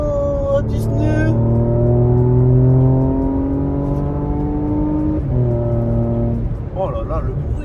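A car with a fully stock exhaust revs up and down in repeated rising and falling sweeps. The engine is loud and close, with a person talking over it.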